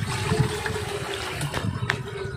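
Water trickling and gurgling from the roots of a 30-year-old bamboo tree in a forest, a steady soft splashing flow with a few brighter drips standing out.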